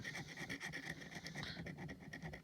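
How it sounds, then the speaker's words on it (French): A pencil lead gently scraping a surface with a steady, soft, rhythmic rasp of quick light strokes, close and fairly quiet, with no voices. "je gratte tout doucement"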